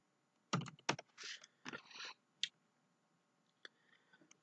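A password typed on a computer keyboard, with a few soft, close key taps and short bursts of clicks separated by brief pauses, faint and without talking.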